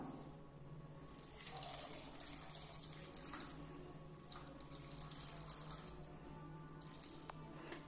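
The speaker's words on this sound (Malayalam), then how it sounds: "ഇനി ഇത് വേവാൻ ആവശ്യത്തിന് നമുക്ക് വെള്ളം ഒഴിച്ചു കൊടുക്കാം." Water poured into a cooking pot for Kerala-style kurukku kalan, a soft continuous running and splashing stream with brief brighter gushes, faint and close.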